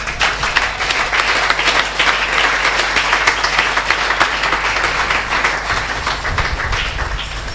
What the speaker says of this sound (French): Si tu es d'accord avec ce message, acclame ce message.